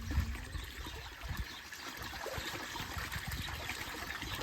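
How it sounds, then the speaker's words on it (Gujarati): Water trickles thinly from a bathroom tap in a steady, soft, continuous flow that stays faint and even throughout, with no talking. "આપણે બાથરૂમમાં નાતા હોય તો નળમાં થોડો થોડો પાણી આવે"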